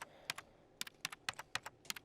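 Quick, close bursts of typing on a computer keyboard, with a dozen or so crisp key clicks in an uneven rhythm, alone and fairly quiet.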